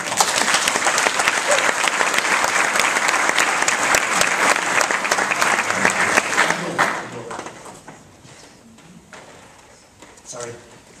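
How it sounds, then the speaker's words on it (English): An audience at a business talk in Galway applauds loudly and densely for several seconds, then the clapping thins out and fades to scattered claps and room noise. "Would you give a great round, a Galway round of applause to Pat Phelan?"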